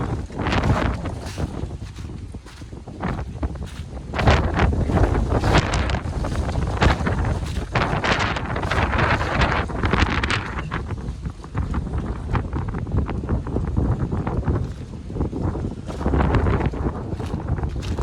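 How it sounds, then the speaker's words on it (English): Strong, gusty wind buffets the microphone outdoors on a walk, a loud roaring rumble that surges and dips continuously for the whole stretch with no voice. "But this wind is brutal."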